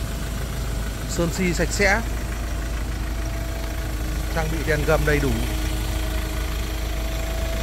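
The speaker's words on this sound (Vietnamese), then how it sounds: "Máy dầu thì nó nổ to nhưng mà ngược lại máy nó không rung lắc" Ford diesel pickup from 2020, an XLS with automatic gearbox, idling steadily up close as a continuous low rumble, with someone talking over it throughout.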